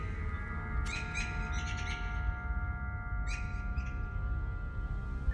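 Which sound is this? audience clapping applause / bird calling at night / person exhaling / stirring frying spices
bird calling at night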